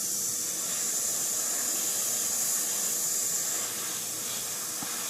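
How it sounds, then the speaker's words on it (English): A Badger airbrush sprays a light mist of paint onto a 1/35 Tamiya Stuart tank model, giving a steady, even high hiss of air that runs unbroken and close throughout. "I use my Badger for this. I don't use my Iwata. So I'm gonna just spray a light mist of it on there."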